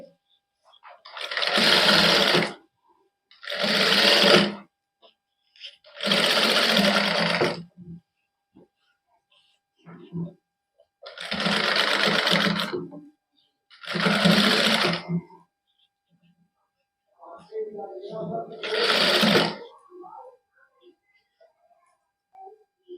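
Domestic sewing machine stitching a decorative neckline design in multicolour thread on a suit, running in six or seven separate bursts of a couple of seconds each with short silent pauses between them.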